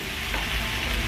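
Potatoes dropped into a hot stir-fry wok with vegetables, a loud, close, unbroken sizzle filling the whole brief moment.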